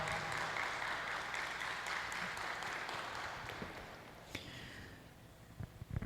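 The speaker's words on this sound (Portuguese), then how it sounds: "Dê um aplauso ao Senhor" A church congregation applauds the Lord during a sermon, fairly faint and distant; the clapping is thickest at the start and thins out over the last couple of seconds, ending in a few scattered claps.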